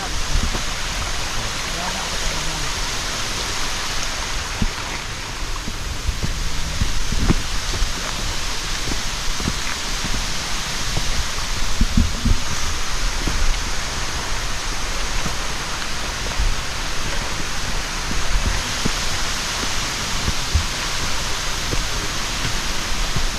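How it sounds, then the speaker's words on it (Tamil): Forest stream flowing down from Shenbagadevi waterfall near Courtallam in Tenkasi, a steady broadband rush of water running continuously throughout, close and even in loudness. "அருவிலிருந்து வர நீரோடை தான்."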